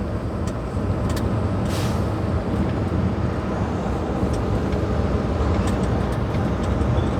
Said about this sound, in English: Truck scared me there.